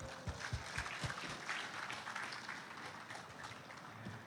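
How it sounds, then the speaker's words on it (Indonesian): Audience applause at the opening ceremony of Fesyar Sumatera 2022, a broad wash of many hands clapping at moderate, somewhat distant level with a few heavier thumps early on, continuing steadily throughout. "Ya boleh tepuk tangannya para hadirin sekalian."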